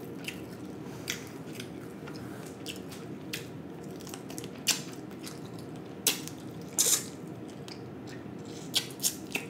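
Crunchy bites and chewing of a whole fried fish, close to the mic, with sharp crackling snaps scattered over a steady low rustle, and no talk.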